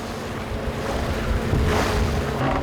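Ocean waves surge and wash around a fishing boat at sea while octopus traps are hauled up, a steady loud roar of surf and wind with swells rising toward the middle and end, no voices.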